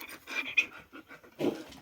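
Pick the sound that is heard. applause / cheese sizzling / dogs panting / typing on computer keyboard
dogs panting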